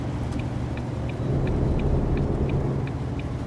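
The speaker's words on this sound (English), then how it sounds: "Now I got to get used to the engine sound of this Volvo" A heavy Volvo truck engine in American Truck Simulator rumbles steadily at close range, a low continuous drone with faint ticking clicks repeating on top.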